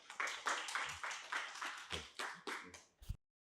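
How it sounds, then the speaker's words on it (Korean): An audience claps to welcome a lecturer to a humanities talk, sparse and uneven at first, a handful of hands with a few rhythmic bursts, ending abruptly in silence. "큰 박수로 환영해 주시면 감사하겠습니다."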